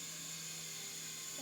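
A small toy helicopter hovering, a steady high-pitched whine and buzz held evenly for a brief moment, close and fairly quiet.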